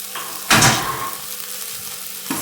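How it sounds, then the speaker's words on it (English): Okra frying in a pan sizzles steadily while a utensil stirs it, with a sharp scraping clatter near the start and another brief one near the end. "So yeah, give it a stir."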